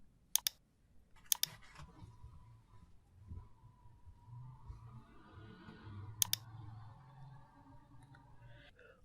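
A computer mouse clicks sharply in quiet surroundings while objects are selected in drawing software: a quick pair of clicks, then a rapid triple click, and later another pair, all crisp and close.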